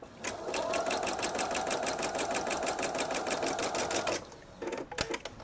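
A sewing machine runs steadily for about four seconds while stitching quilt patches for a nine patch quilt, giving a fast, even mechanical chatter, then stops and is followed by a few short clicks and handling noises.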